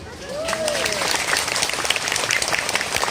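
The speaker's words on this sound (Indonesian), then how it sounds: "Tepuk tangan dulu untuk acara ini." Crowd of worshippers applauding at a Maulid religious gathering in a coffee shop and restaurant, steady dense clapping with voices and cheers mixed in.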